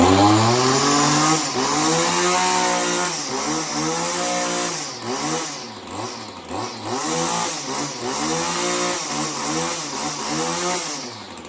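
An Echo SRM 2620T string trimmer engine running without its spark arrestor, loud and close, with a raspy two-stroke buzz that rises and falls through repeated throttle blips and revs, no speech.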